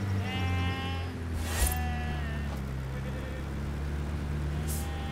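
Sheep bleating in the Forza Horizon 4 racing game, several drawn-out wavering bleats overlapping over a steady low engine rumble, with a couple of sharp bursts along the way.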